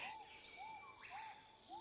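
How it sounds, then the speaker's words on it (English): Bird song breaks a quiet meditative silence: a soft, distant bird repeats short downward-curving calls, with a thin steady high tone running underneath. "as the bird song begins and brings the silence to a close"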